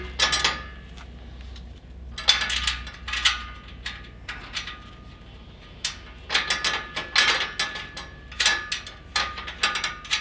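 Bolt pushed through the hole of a leg support while assembling a Unistand adjustable stand: scattered close metallic clicks, scrapes and clunks in irregular bursts over a low hum, no talking.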